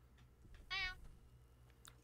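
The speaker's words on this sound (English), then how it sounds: "Meow. Meow." A cat gives a single short meow, faint and slightly distant, over a quiet background hum.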